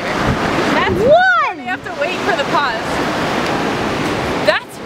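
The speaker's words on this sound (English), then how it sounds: "Welcome to the ocean. Specifically the Pacific Ocean." Pacific Ocean surf washing steadily against the shore, a broad continuous roar of waves with wind buffeting the microphone and a voice talking over it.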